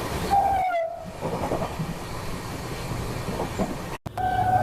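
Inside an Indian Jan Shatabdi Express running from Ahmedabad to Ekta Nagar as it overtakes another train: steady rail rumble and rattle, a whistle sounding near the start and again at the end, with a brief passing gust.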